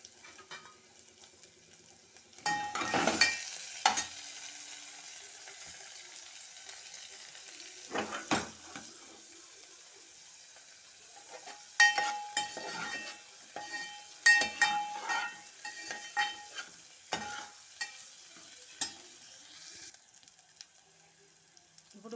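Onions frying in a pan for a Telugu home-style dish, with intermittent sizzling bursts and stirring scrapes that come and go over a quiet background, no talking.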